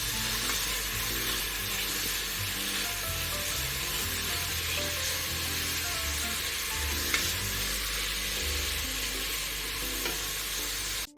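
Onions sizzle and fry in a pan for cooker biryani while being stirred, a steady, close hiss with faint scraping throughout and no talking.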